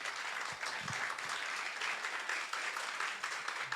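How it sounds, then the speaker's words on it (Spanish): Church congregation applauding together, a steady wash of many hands clapping that fills the space at moderate loudness without pause. "Démosle un aplauso al Señor"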